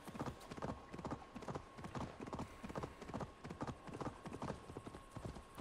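Rhythmic hoofbeats of a horse galloping in Assassin's Creed Valhalla, a steady, fast clip-clop running throughout at a constant level with a faint tone held underneath.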